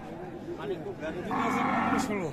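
A Friesian cow at a cattle market gives a long, loud moo over the second half, against a backdrop of murmuring voices and market bustle.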